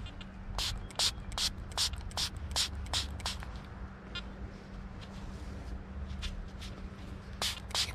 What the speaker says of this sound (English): Spray bottle works well, it gives a lovely fine mist of water.